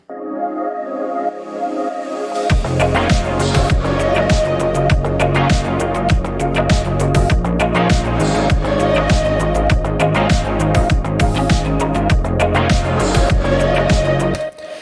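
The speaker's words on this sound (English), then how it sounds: "So here is a vocal chop that I have here." Electronic pop track built around vocal chops cut from a recorded voice: a soft pad intro, then a full loud mix enters after a couple of seconds with steady beat and chopped vocal stabs running continuously.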